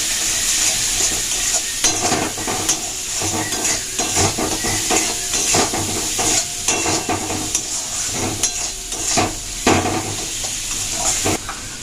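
Masala with a little sugar sizzles steadily in a pan while being stirred and sautéed, with frequent scraping knocks of a spoon against the metal, moderately loud and close, no talking.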